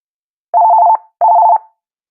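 A telephone ringback tone during a call, two clean warbling rings each about half a second long with a short gap, loud and alone against silence.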